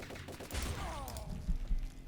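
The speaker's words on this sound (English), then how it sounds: "This guy's got like a machine gun." Gunfire from a machine-gun enemy in Turok 3 Remastered, set in a junkyard level, crackles as a quick burst of shots with a few dull thuds, moderately quiet amid game sound.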